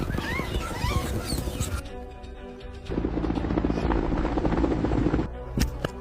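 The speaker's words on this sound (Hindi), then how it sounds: "वो देखो हेलीकॉप्टर आ गया है" Helicopter approaching in an outdoor setting during a rescue, a steady broadband rotor and engine roar that swells louder partway through, with brief voices and bird calls mixed in early on.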